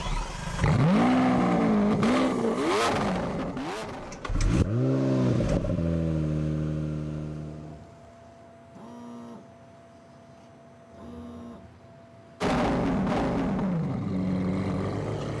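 A 730-horsepower car revs hard and accelerates through several rising, shifting engine sweeps, loud and close, then fades to a quieter idle with brief bursts before roaring back at full volume.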